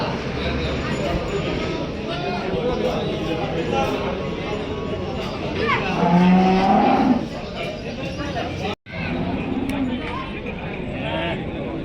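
Bulls low and moo at the Chakan weekly bull market, with one loud drawn-out bellow near the middle over a constant crowd babble and talk, plus faint hoof clops.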